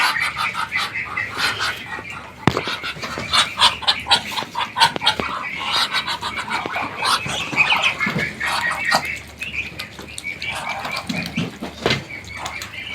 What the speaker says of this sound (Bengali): এরা হচ্ছে আমার রানিং হাঁস